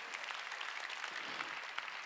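Worshippers in a Korean church congregation clap together during a Sunday worship service, a faint, dense, steady patter of many hands heard at a distance.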